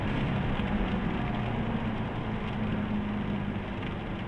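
Steady hiss of rain and wet spray on a four-mile race track, heard from a 2017 Jaguar F-Type SVR, with a low engine drone running underneath throughout.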